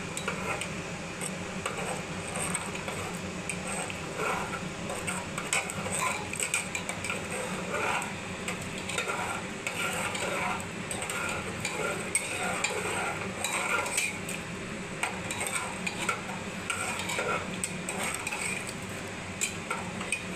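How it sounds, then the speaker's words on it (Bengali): Egg is stirred in a frying pan, repeated scraping and light clattering of a utensil against the pan over a soft sizzle, close and steady for a long stretch without speech. "এইভাবে আমি ডিমটা দিয়ে দেব, আর হচ্ছে নাড়তে থাকবো"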